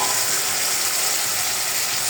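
Steady, loud sizzling as potatoes and two or three green chilies go into a cooked-down spice paste in a pan for a fish and broad bean seed curry, a constant frying hiss throughout.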